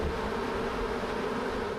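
Honeybees taken from a regional beekeeper buzz in a steady, close, continuous drone with no pauses and no voices.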